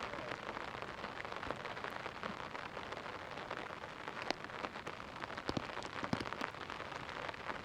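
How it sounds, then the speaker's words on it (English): Rain pattering on a surface during a strong storm, a steady soft patter of drops with occasional sharper individual raindrop hits, faint and continuous with no voices. "Enjoy the little ASMR there with the raindrops."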